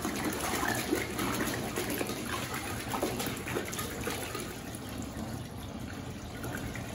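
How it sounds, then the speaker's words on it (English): About two to three gallons of water pour steadily from a tap into a pot for making peach brandy moonshine, a continuous gushing, splashing stream at moderate loudness. "we're gonna take a pot, we're gonna put about 2 gallons of water in it"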